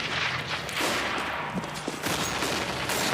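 Counter-Strike match play with AWP sniper rifle fire and other gunfire, a dense clatter of sharp shots and game noise packed into a few seconds, with no voices.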